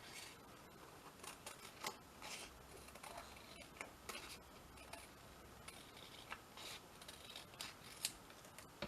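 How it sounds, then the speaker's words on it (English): Scissors snip through paper pieces for a pop-out Christmas card, a quick irregular series of sharp, close cuts alone in a quiet room. "Let's just cut these out."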